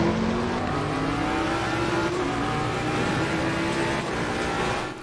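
GT race cars in Assetto Corsa Competizione, including Nissan GT-Rs pulling out of the pit lane, roar steadily throughout with sustained engine drone and rising revs, loud and close with no talk.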